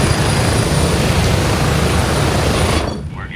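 Helicopter engine in the military shooter Gray Zone Warfare, a loud continuous rotor and turbine roar with a steady high whine, close and unbroken before dropping away sharply near the end.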